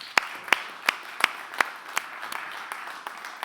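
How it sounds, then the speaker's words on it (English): Sparse, separate handclaps from a small audience welcoming conference panelists onto a stage, a few sharp claps spaced about every half second, then thinning into scattered lighter claps. "Yes, please give them a round of applause."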